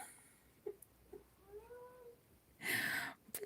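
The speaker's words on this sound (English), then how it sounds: "All I can hear is like these sad little meows." A cat outside a closed door gives a faint, sad, drawn-out meow with a few small whimpering sounds before it, then a brief louder rustle.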